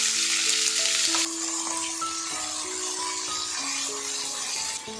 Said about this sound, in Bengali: এবার আলু ফুলকপি ভাজাটা ভাজবো কালো জিরে আর শুকনো লঙ্কা ফোড়ন দিয়েছি ফার্স্টে আলুটা দিয়ে দেবো